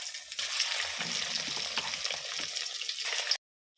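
Katla fish pieces frying in hot oil, a continuous soft hissing sizzle for about three seconds that stops abruptly.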